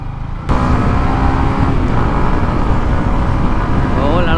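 Road traffic and engine drone heard from a motorcycle on a weekend ride along the ECR, loud and continuous with wind rumble across the microphone and a voice talking over it.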